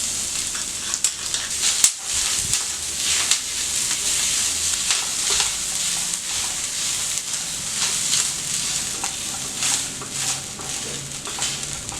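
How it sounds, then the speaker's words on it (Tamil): Grated coconut with cashews, almonds and pistachios roasting in ghee, a steady bright sizzle and crackle up close, with a spoon stirring and clattering against the pan and no voices. "அதுக்காக நல்ல நெய்யில் வறுத்துக்கணும்"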